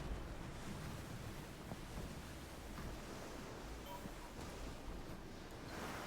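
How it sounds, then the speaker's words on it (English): A wind gust sweeps across open sea in the pirate naval game Skull and Bones, a faint steady rush of wind and surf with low water noise and no talk. "And we got us a wind gust."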